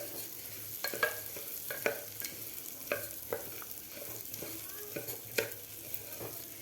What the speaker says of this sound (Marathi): मीडियम गॅसवर आपल्याला याचा कलर चेंज होईपर्यंत आपल्याला हा दलिया भाजून घ्यायचा आहे तुपामध्ये.